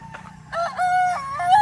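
A tied-up old gamecock rooster, two to three years old, lets out one loud, close crow with a rising, wavering, drawn-out call, with faint background noise before it.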